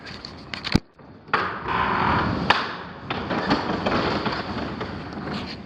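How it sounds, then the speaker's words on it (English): A new overhead sectional garage panel door rolls down with a continuous rumbling slide, a loud bang at the start and scattered knocks and clatter as the panels travel, heard up close. "Let's see how the door comes down."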